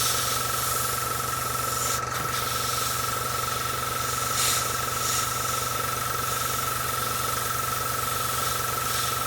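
A steady, close airbrush hiss spraying paint onto a model tank kit runs continuously with a faint mechanical hum underneath, even and unbroken throughout.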